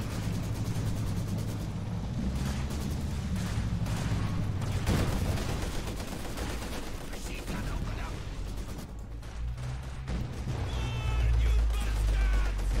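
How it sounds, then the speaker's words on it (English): Grenade blasts and rattling gunfire from a tournament match of a war video game form a dense, continuous battle din, while a commentator talks over it. "Nice grenade again."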